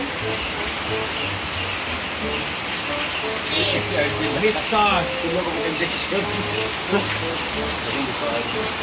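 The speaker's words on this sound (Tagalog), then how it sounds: "Ang lakas ng ulan dito, guys." Heavy rain pours down steadily as a dense, continuous hiss throughout, with people talking nearby over it during preparations for a fiesta.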